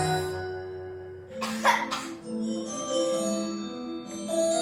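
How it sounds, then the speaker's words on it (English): A single short cough bursts out over a sustained musical background, followed by a second brief cough-like burst, fairly close and clear. "A slow decline that started with a cough."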